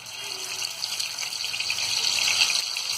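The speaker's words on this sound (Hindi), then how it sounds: "एक पैन में हमने यहाँ तेल को गरम कर लिया है। अब डालेंगे हम इसमें ये मछली।" Fish goes into hot oil in a pan and fries with a loud, continuous hissing sizzle that builds slightly over a few seconds, close by and with no talking.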